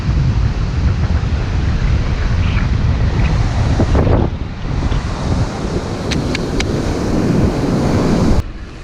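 Surf rolls steadily onto a deserted beach on Mustique, a continuous loud wash of breaking waves with wind buffeting the microphone and no voices.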